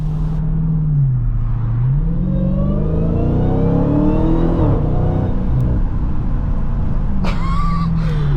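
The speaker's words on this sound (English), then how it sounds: "When you put the windows down, you can hear the supercharger even more." A Dodge Hellcat Jailbreak being driven with the windows down, its supercharger producing a steady rising whine over a deep, continuous engine rumble that swells with acceleration.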